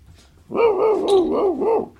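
A man imitates a dog barking and growling, a single close, loud drawn-out woofing vocalization with wavering pitch lasting over a second.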